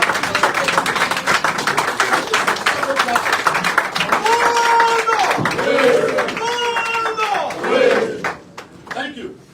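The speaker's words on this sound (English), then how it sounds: "Give all of our delegates a big round of applause." Party delegates receiving applause from an audience at a Liberian political press event before the 2020 special senatorial elections, with loud clapping and cheering, whistles and shouts rising and falling while a voice speaks over the crowd.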